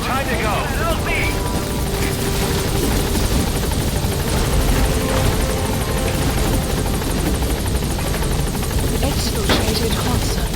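Helicopter from the video game Metal Gear Solid V arriving at a landing zone, its rotor chop a steady loud drone throughout, with radio-style voices talking over it.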